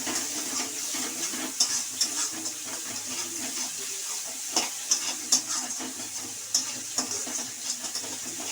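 Masala spices frying in oil for homemade chana masala, a steady close sizzle with intermittent sharp crackles and pops and some stirring scrapes, no talk.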